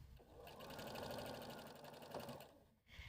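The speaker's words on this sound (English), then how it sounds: "I'm going to take it to the machine" A sewing machine stitches fabric strips onto a pillow panel, running in a steady continuous whir for nearly three seconds before slowing and stopping near the end.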